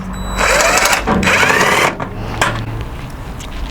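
Two T30 bolts are loosened and removed from a vehicle cowl, giving a close whirring tool run with a rising tone that stops, then softer metallic clicks and handling, with no voices.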